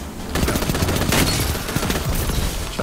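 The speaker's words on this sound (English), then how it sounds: "Trying to shotgun." Shotgun blasts in a video game firefight, a dense run of loud, sharp overlapping shots, close up and without a break for nearly three seconds.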